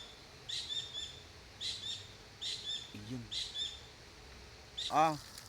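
Repeated high chirping bird calls in short bursts, fairly close, with a brief spoken word near the end.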